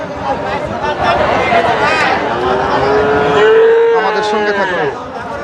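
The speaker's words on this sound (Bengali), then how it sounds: "আজকে হাটে পর্যাপ্ত পরিমাণ গরু আসছে এবং ছোট গরু অনেক পরিমাণ দেখা যাচ্ছে" Cattle lowing at a village cattle market in Joypurhat, with a long drawn-out moo rising clearly over a steady background of crowd chatter and market noise.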